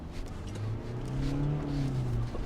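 A GWM Tank 500 SUV accelerates on a rough off-road course, its engine note climbing in a steady, close, continuous drone with a low rumble throughout.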